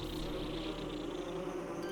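Insect-like buzzing from a War Wasp creature in the video game Metroid Prime Remastered, a steady droning hum that holds throughout the short stretch at moderate level, with no voices.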